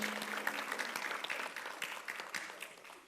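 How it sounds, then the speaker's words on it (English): An audience at an indoor church summit gathering gives a brief round of applause with a few cheers, moderately distant and fading slightly toward the end. "Little cheer here."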